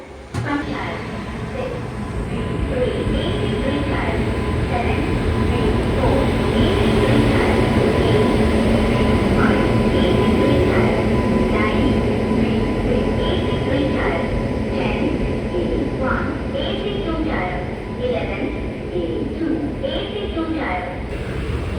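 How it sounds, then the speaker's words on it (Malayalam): A Kottayam Express hauled by a WP7 locomotive rumbles past on the adjacent track, heard from inside a sleeper coach as a loud, steady rolling roar with faint rhythmic clacks, and people talk over it. "അപ്പുറത്തൂടെ പോകുന്ന WP7 വന്നത് നിലമ്പൂർ റോഡിൽ നിന്ന് കോട്ടയത്തേക്ക് വന്ന കോട്ടയം എക്സ്പ്രസ് ആണ്."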